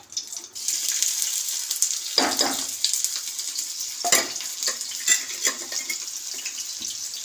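Onion frying in a generous amount of oil for a mutton curry, a close, steady sizzle and hiss broken by several louder bursts as the pieces are stirred.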